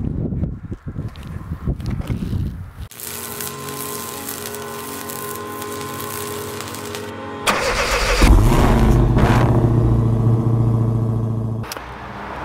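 A 2013 Ford F-150 Raptor SVT truck starts up and rumbles close by, its engine settling into a steady run before a louder surge of revving partway through, with no talk over it.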